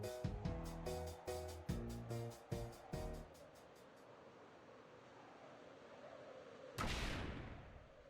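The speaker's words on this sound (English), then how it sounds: "An explosion rocks the ship." An explosion rocks a ship in the video game Cloud Meadow, heard as a volley of heavy booming hits followed by a low rumbling wash and then one last loud blast near the end.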